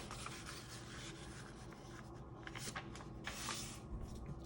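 A sheet of paper is folded in half, with close crinkling and rubbing rustles and a few sharper crisp swishes as the crease is pressed.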